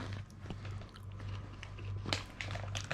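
Crunchy garlic and chili chips chewed close to the mic, with crisp, irregular bites and crackles over a low steady hum.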